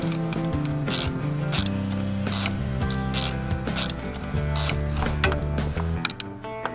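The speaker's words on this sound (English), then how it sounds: "We have a 14mm socket here." A 14mm spark plug socket on a ratchet works loose a plug on a Mazda CX-5 engine, giving continuous close clicking of the pawl with rhythmic ratcheting strokes and metallic rubbing throughout.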